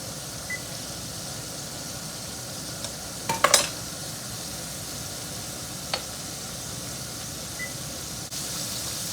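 Country fried steak frying in older grease in a pan, giving a steady, quiet sizzling hiss throughout, with a few brief clinks and scrapes breaking in near the middle.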